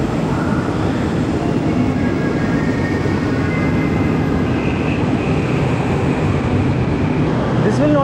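A train at a station platform in Kuala Lumpur rumbles steadily throughout, a continuous loud rolling drone with faint tonal whines above it and a short squeal near the end.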